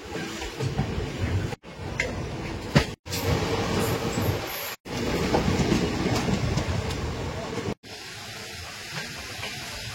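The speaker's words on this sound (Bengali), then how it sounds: "পাশ থেকে যে ট্রেনটা যাচ্ছে সেটা হচ্ছে নিউ বঙ্গাইগাঁও থেকে গুয়াহাটি পর্যন্ত যাওয়ার ট্রেন" Passenger train from New Bongaigaon to Guwahati rumbling past close by, with continuous heavy rolling noise, wheel clatter and brief breaks in the sound.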